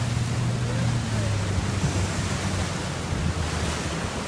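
Sea waves and wind wash steadily around a small Feva sailing dinghy off Torbay, a constant loud roar of surf with wind buffeting the microphone and a faint voice in the background.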